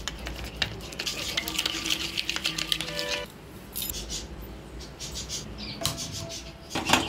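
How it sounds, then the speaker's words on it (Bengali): A spoon stirs spiced batter for paneer pulao in a bowl, soft scraping and rubbing strokes with light clinks, close and fairly quiet, with no talk. "এবার এই ব্যাটারটাকে মিক্স করে রাখছো"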